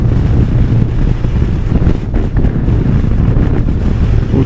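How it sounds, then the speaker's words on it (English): Strong wind gusting hard enough to lift dust, a steady loud rushing roar buffeting the microphone throughout with no voices. "I think it's the wind is blowing so hard it's picking up some of the dust"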